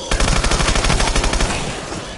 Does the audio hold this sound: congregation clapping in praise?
no